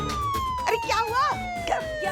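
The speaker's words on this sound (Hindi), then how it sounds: "मेरा सायरन क्यों बजा रही हो?" A siren wails with a slowly falling tone, sounding steadily under overlapping voices talking nearby.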